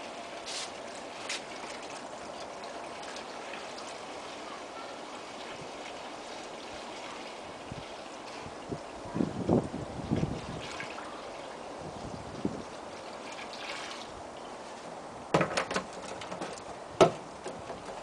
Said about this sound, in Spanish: Ponemos el barreño aquí y vamos llenándolo de agua. Agua de mar.